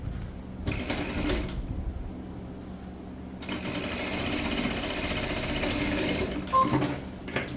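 A sewing machine stitches a straight seam along the bottom of a fabric tote bag, its rapid mechanical whir running in two stretches with a brief pause between, close up and steady.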